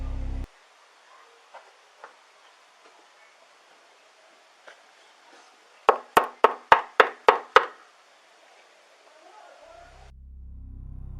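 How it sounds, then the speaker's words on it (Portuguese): A quick series of about seven sharp knocks on a door, evenly spaced and fairly loud, breaks a quiet room tone that holds a few faint taps beforehand. "Até que alguém bate a porta."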